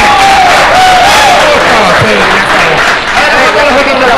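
Loud audience applause sweeps through a studio crowd on a television program, dense continuous clapping with some cheering while a presenter keeps talking over it.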